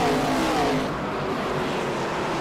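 ARCA stock cars in iRacing roar at North Wilkesboro on lap one, a loud, dense wall of engines accelerating together with rising revs, close and continuous.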